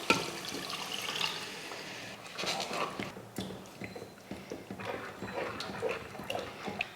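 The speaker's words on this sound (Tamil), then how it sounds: "இப்போ தண்ணி சேர்த்துருவோம்." Water poured into a pot of sambar with cooked dal and sambar powder, a steady soft splashing trickle with small gurgles and faint clinks, fairly quiet and continuous.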